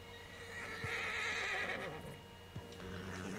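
A stallion whinnies in a high, wavering neigh in the game Red Dead Redemption 2, with a few soft hoof thuds and faint background ambience.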